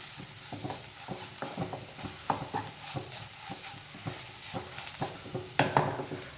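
Masala for a chicken curry sizzles in coconut oil while a utensil stirs it in steady, repeated scraping strokes, a continuous close frying hiss underneath.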